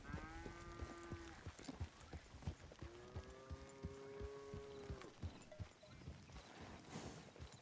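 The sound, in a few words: cattle mooing in Red Dead Redemption 2 video game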